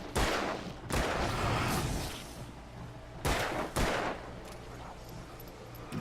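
Several loud gunshots in the Alan Wake video game, spaced cracks in two close pairs with ringing decay between them.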